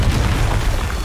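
A Confringo spell goes off in the video game Hogwarts Legacy, a dense low boom with a rumbling blast that fills the whole second at steady loudness, with no talk over it.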